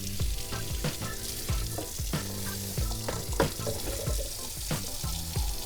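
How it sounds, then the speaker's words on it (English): A kitchen knife rinsed under a running tap, with steady water spray mixed with clinks and knocks of metal against the sink, fairly quiet. "I'm gonna rinse my knife off."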